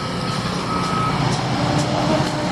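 At a construction site, a dump truck's reversing alarm beeps steadily over a loud, continuous diesel engine rumble and heavy machinery noise.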